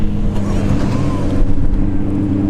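A Lamborghini Gallardo with a front tow hook at a Street Heat drag racing event in Bradenton, engine rumbling loud and steady with low droning tones, a brief voice in the crowd noise around it.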